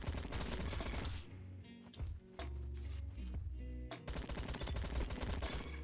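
Gunfire in the Roblox shooter Bad Business, with loud, rapid bursts of automatic fire coming close together and only brief breaks between them.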